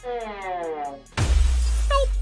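A glass door shatters with a sudden loud crash and a burst of breaking glass, after a rising whine, then low rumbling noise and a brief tonal chirp near the end.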